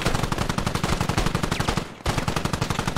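Sustained rapid machine gun fire in a Squad game mod, loud and close, with a steady stutter of rounds that breaks off for a split second before resuming at the same pace.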